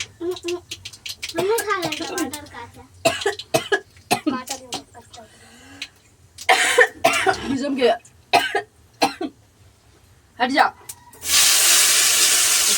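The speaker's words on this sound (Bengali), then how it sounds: "শুকনো লঙ্কা ঝাঁঝে মানে কাশিটার যেন আরও থামছেই না" A person coughing repeatedly after choking on tomato with a sharp sting of dry chili, harsh bursts and throat clearing broken by talk outdoors, ending in a loud steady hiss.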